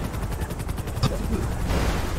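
Gunfire rings out in a Thai roleplay video game, a steady run of rapid shots with one sharp louder crack near the middle, loud and close throughout.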